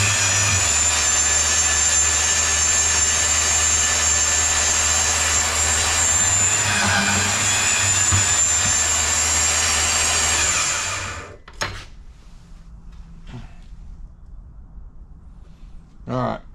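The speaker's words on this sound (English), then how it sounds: "This little bandsaw on the rack table." A small bandsaw on a rack table runs with a loud, steady whine for about ten seconds, then cuts out abruptly, leaving a few faint clicks and handling knocks.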